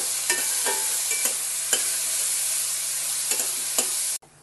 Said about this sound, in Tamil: வெங்காயம் நல்லா இப்போ பொன்னிறமாக வதங்கிட்டோம்.